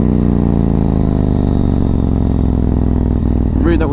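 A Yamaha MT-01 motorcycle engine is held at high revs to keep it from stalling with battery trouble, a loud, steady, close rumbling drone that holds its pitch and dips slightly near the end.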